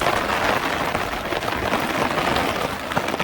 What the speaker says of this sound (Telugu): వర్షం ఇక తగ్గటట్టు అయితే లేదు పరిస్థితి.